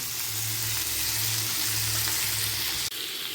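Small chicken pieces for cabbage ghonto sizzle and fry steadily in a hot pan, a loud, continuous crackle with a brief clatter near the end, and no voices.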